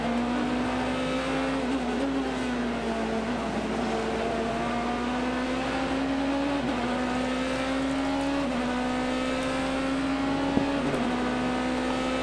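Onboard a Porsche or BMW race car lapping Sebring, its engine droning loud and steady with rising and falling pitch through gear changes, close and continuous without any voices.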